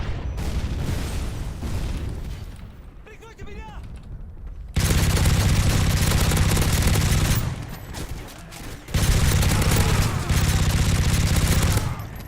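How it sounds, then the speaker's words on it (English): Airstrike blasts in Call of Duty MW3 on the Parish map: dense, loud rumbling barrages of explosions and gunfire that surge and persist for several seconds, with a quieter lull in between and a voice talking at times. "Airstrikes."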